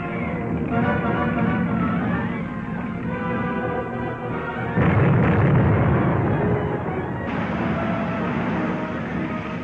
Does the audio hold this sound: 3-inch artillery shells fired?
yes